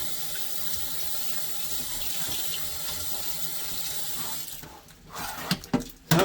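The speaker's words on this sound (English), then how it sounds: "I have already rinsed my shrimp with shells and everything." Tap water runs steadily from a faucet into a sink as raw shell-on shrimp are rinsed for a Mexican shrimp cocktail, a continuous hiss for over four seconds before it turns off and a few clatters follow.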